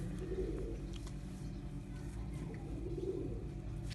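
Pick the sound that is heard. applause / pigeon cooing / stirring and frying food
pigeon cooing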